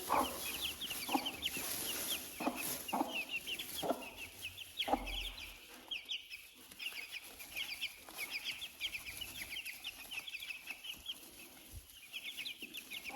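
Silkie hens cluck softly and repeatedly at close range, with a few faint chick chirps and rustling in the background.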